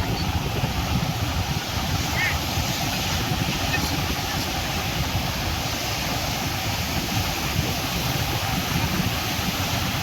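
Strong sea wind buffets the microphone on Mandarmani beach while waves wash in, making a loud, constant roar throughout.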